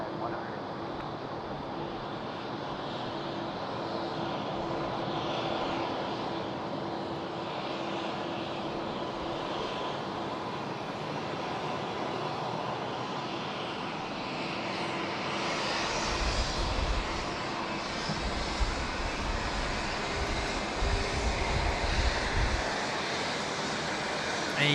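An airliner on the runway at Sydney Airport, a broad steady engine roar that swells louder toward the end, heard from a distance with wind noise and faint radio voices.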